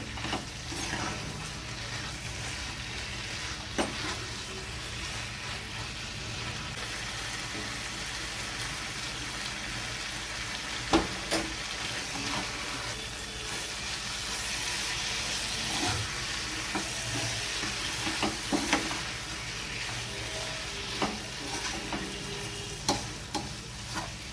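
Coconut and papaya vegetarian curry is stirred with sugar in a pan: a low continuous sizzle with repeated scraping strokes and occasional sharp spoon clicks against the pan, steady for over twenty seconds without speech.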